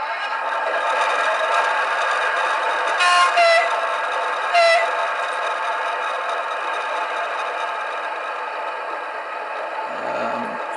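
An HO-scale SNCF X2825 railcar model with a factory-fitted DCC sound decoder hums with a steady engine drone, broken by two short horn toots partway through.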